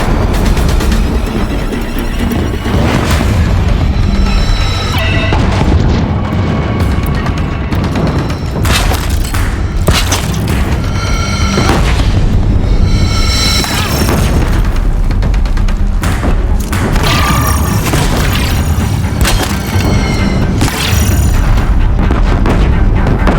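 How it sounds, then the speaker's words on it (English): Loud Deathbringer machine guns hammering and exploding on a bridge at Meridian in Horizon Zero Dawn, repeated heavy booming blasts and bursts of fire layered one after another over a long, intense stretch. "If the Deathbringers keep firing, this bridge will go."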